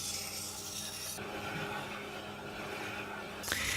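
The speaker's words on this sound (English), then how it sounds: "The unique multi-jig solves the problems of sharpening and honing skew chisels with either a rectangular or an oval section." A Tormek grinder sharpens and hones a skew chisel held in a multi-jig, giving a steady, quiet rubbing and rasping of steel against the stone that shifts in tone midway.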